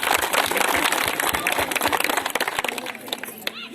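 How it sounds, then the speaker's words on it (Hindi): A room full of people claps at a talk against alcohol, giving a dense burst of hand claps that thins out after a few seconds while a voice carries on over it. "ताली बजा दीजिए।"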